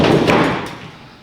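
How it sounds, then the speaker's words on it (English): A window plopped into a tight opening in a vintage camper top on a Datsun 620, one loud close thump that rings briefly and fades. "Let me plop this window in here real quick"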